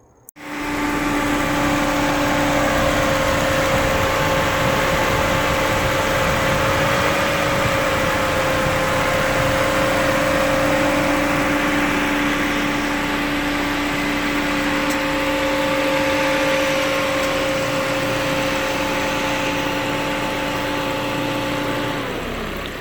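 A Ford Focus with a Zetec engine cranks and catches, then settles into a steady, even idle with a constant hum that holds for over twenty seconds, no one talking.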